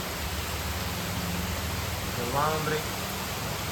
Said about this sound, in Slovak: Začalo nám pršať dnes, tak takto sme v stane.